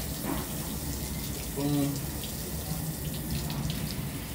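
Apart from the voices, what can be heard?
running tap water while rinsing hands and arms during surgical scrub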